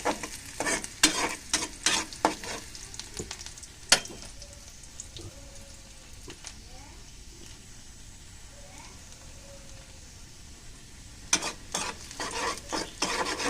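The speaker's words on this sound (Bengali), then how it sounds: "লাল লাল করে একটু ভাজবো, বাদামি করে ভাইজা" Onions frying in oil until browned for a dal tempering, a close sizzle with bursts of quick scraping stirs at the start and again near the end, quieter steady frying in between, with no talk.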